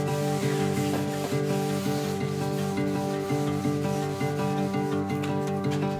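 Alcohol is wiped across the fiberglass hull of a 50 ft sailboat with a steady rubbing sound that stays loud and continuous throughout, with no talking.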